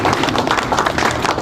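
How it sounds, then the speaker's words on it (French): Audience applause at a public gathering, a brief burst of brisk close clapping from several people lasting just over a second. "Si on peut encore applaudir."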